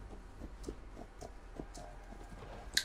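Horse hooves in the Assassin's Creed Valhalla video game clip-clop in a steady, moderate walking rhythm, close and fairly soft, with a sharp click at the very end.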